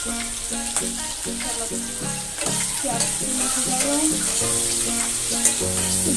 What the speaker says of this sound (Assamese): এইখিনি অলপ টাইম মই ভাজি ল'ম পিঁয়াজখিনি